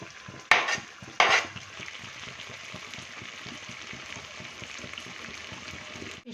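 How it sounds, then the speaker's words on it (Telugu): Fish pieces cook in hot oil with thinly sliced green chillies for a tamarind fish curry. Two sharp metallic clanks from the pan come early, then a steady close sizzle with light stirring scrapes. "ఆయిల్లో ఫిష్ ముక్కలు 5 నిమిషాలు మగ్గిన తర్వాత అందులోకి సన్నగా కట్ చేసిన పచ్చిమిరపకాయ ముక్కలు వేసుకున్నాము."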